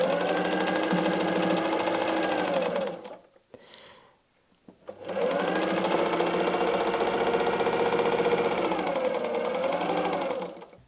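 Sewing machine stitching patchwork quilt pieces, running in a fast steady mechanical hum for about three seconds, pausing briefly, then running again for roughly six seconds, close and clear with no talk.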